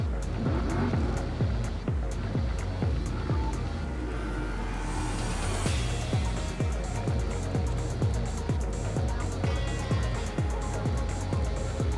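Nitro drag racing cars at Durana Dragway during an outlaw nitro series event, with loud, rapid pulsing engine pops in a steady rhythm and a roaring burst mid-clip.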